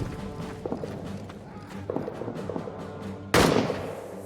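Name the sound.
gunfire in a World War I trench video game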